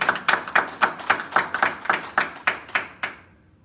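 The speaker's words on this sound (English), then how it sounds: "give her a nice round of applause" Roughly a dozen sharp, evenly spaced claps at a live virtual satsang, a single pair of hands rather than a crowd, close and crisp, slowing and fading out near the end, no voices.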